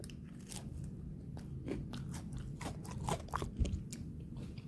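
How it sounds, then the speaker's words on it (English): Crunchy bites and chewing into a slice of homemade pizza cooked without a pizza oven, a series of close, crisp crackling crunches in an uneven rhythm with no talking. "That's the crunch."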